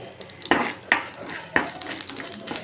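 Urad and chana dal are stirred while frying in a pan, giving a few sharp utensil scrapes and clinks against the pan over a light background of frying, close by.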